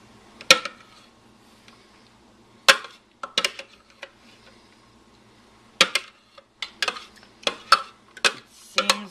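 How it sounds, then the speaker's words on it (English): A spoon scraping grated carrots out of a food processor bowl makes a series of sharp clacks and taps. They come in irregular clusters at close range, with quiet gaps between them. "use a spoon and see if you have about a cup of carrots. Spoon in the carrot."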